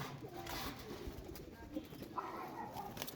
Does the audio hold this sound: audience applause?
no